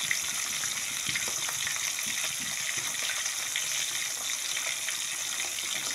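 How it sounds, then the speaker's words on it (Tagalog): Tilapia frying in a pan of oil over medium heat, a continuous even crackle and hiss with small popping spatters, steady and close with no talk. "Iniprito na natin yung ating tilapia. So, nasa medium heat lang po yan."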